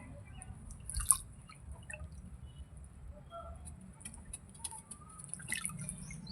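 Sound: water dripping while soaking a pigeon's wings

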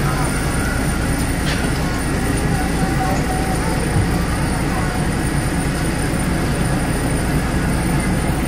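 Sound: passenger train riding from Ban Laem to Mae Klong

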